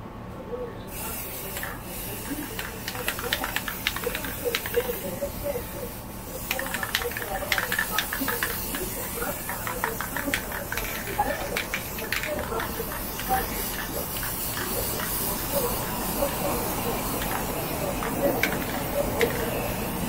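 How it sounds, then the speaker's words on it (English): Spray paint hisses from an aerosol can during home decor touch-ups, long steady bursts of airy spray running close to the microphone beneath intermittent talking. "You can't be too close to it when you're spraying it."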